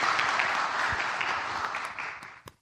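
A church audience warmly applauds a married couple, an elder and a deaconess, with a steady wash of clapping that thins and tapers off near the end, leaving a few last claps.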